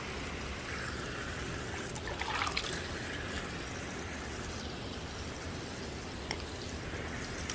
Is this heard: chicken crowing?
no